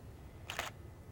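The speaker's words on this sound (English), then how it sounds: "you can hear how fast the shutter is going." Digital SLR camera shutter firing in a quick burst of clicks, sharp and close, about a fifth of a second long amid quiet room hiss.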